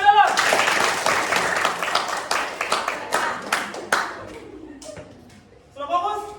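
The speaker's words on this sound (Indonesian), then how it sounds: "Tepuk tangan dulu." Classroom of students clapping hands in a brief burst of rhythmic group claps that fades out, followed by a voice speaking at the end.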